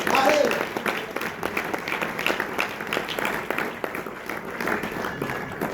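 Church congregation applauding during a Spanish-language gospel sermon, a steady wash of clapping that swells at the start and continues throughout with a voice speaking over it.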